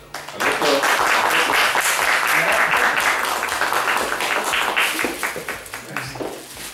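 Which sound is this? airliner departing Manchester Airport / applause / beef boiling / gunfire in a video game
applause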